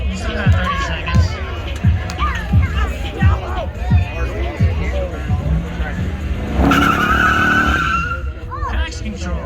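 At the Warsaw Auto Show burnout contest, a car's engine revs hard while its tires squeal and skid in repeated bursts, followed by a sustained high screech, with crowd noise and voices talking throughout.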